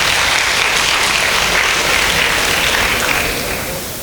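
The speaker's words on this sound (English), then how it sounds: "One big round of applause for her." Audience applause at a youth conclave of college students, a dense, loud, sustained burst of many hands clapping nearby that holds steady for about three seconds before starting to fade.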